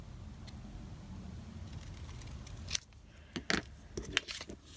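Scissors trim the edge off a piece of patterned paper from a 6 x 6 pad while making Christmas gift tags, giving a few crisp, close snips in quick succession after a quiet stretch.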